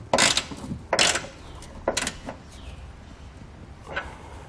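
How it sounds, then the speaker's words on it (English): A ratchet with an 11/16 socket tightens the bolts of a Curt trailer hitch receiver on a 2018 Honda HR-V, giving four separate bursts of rapid clicking about a second apart, close by with no talking. "now we can tighten it down using an 11/16 socket"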